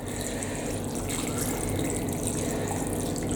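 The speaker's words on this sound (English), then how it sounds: "So this is ½ litre of stock going in." Half a litre of stock pours steadily into a big pan for Greek bean stew, a continuous close liquid rush and splash with no speech.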